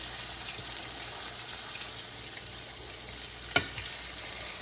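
A flipped pork chop fries in a pan, a steady close sizzle and crackle holding even throughout, with one brief sharp tap near the end.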